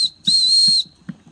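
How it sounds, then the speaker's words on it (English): A Wilesco D16 toy steam engine gives a bright, shrill whistle: a brief toot, then a longer sustained blast of about half a second, with soft rhythmic chuffing of the engine underneath. "And it's got like a whistle."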